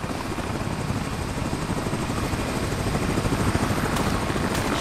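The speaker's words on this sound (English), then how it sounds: "Sending a damn helicopter to catch me?" A helicopter flying overhead in the video game American Arcadia, a loud, steady rotor thrum and engine roar that holds constant throughout with no pauses.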